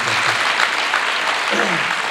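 Loud, sustained crowd applause in a hall at a matric awards ceremony, dense clapping washing evenly across the whole moment, with faint voices mixed underneath.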